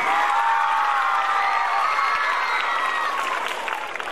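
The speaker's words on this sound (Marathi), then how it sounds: "जोरदार टाळ्या झाल्या पाहिजे संदेशसाठी" An audience at a school gathering cheers and applauds for a student named Sandesh, loud and close, with voices whooping and shouting over the claps throughout.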